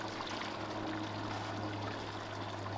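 Water pours into a vegetable biryani marinade being cooked outdoors over a fire for a large group, a steady continuous trickling stream without a break.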